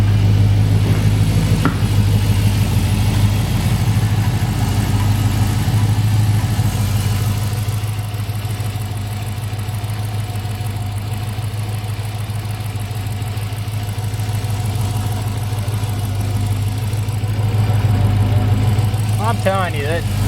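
A Hemi V8 engine idles steadily close by with a constant low rumble and a faint repetitive tick, voices talking over it throughout.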